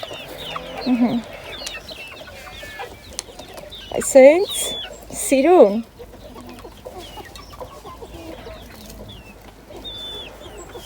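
A couple of hens cluck and squawk in short bursts midway, over quiet outdoor background, with a brief spoken remark.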